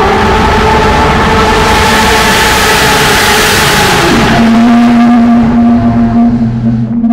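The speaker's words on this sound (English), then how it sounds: "It's gonna be the first tunnel run with the new exhaust and a burnout." A straight-piped Porsche 992 GT3 roars loudly through a tunnel, with engine pitch climbing hard before a sudden gear drop and then a sustained high-revving howl as the burnout begins.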